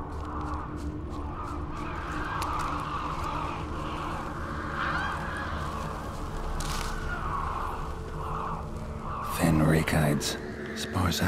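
Crows cawing in The Witcher 3, harsh repeated calls over ambient game background, with a louder flurry of caws and flapping near the end.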